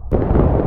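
A massed rifle volley from a line infantry regiment in a skirmish battle game, a single loud, close, broad blast that rolls on without a break for the whole moment.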